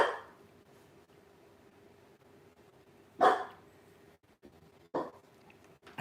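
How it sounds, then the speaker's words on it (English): A dog indoors gives a short sharp bark, then another a couple of seconds later, over a quiet steady hum in an otherwise still room. "I go over and give her attention, and then she still barks."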